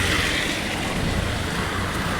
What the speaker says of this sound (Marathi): तुम्ही बघू शकता आमच्याकडे एवढा भरपूर असा चाललेला पाऊस